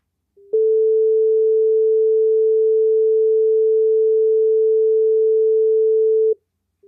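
A single steady pure tone sounds alone for about six seconds as part of an auditory masking demonstration, clean and loud, starting and stopping abruptly.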